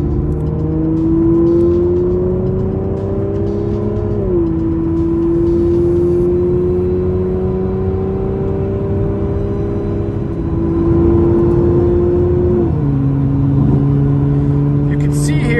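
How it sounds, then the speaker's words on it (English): A 2014 Aston Martin Vanquish revs under load while driving, its loud, steady engine drone rising in pitch and dropping sharply at each gear shift, with a couple of shifts heard over continuous road and interior noise. "I'll try to shut up just so you guys can kind of hear the car and experience it."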